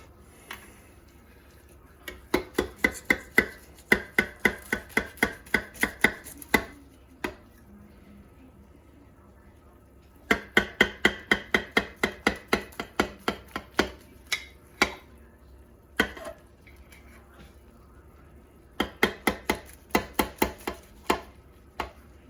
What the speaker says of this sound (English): So, let's cut up and dish up.